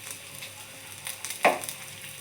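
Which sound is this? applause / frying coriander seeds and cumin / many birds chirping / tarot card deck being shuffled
frying coriander seeds and cumin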